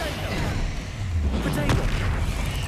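A Bombarda explosion spell going off during a troll fight in Hogwarts Legacy: a deep, rumbling boom over steady, dense battle noise, with brief whooshing magical sweeps and voices in the background.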